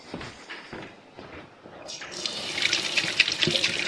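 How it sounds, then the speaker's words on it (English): Hands are washed under a running kitchen tap during biscuit baking, the water starting partway through as a steady close splash after a few quiet clicks and movements. "Just washing my hands again for the last of the batch."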